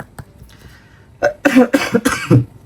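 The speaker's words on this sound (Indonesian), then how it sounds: "Maaf batuk." A short burst of coughing, three or four harsh rough coughs in quick succession, close and fairly loud, after a brief quieter cough.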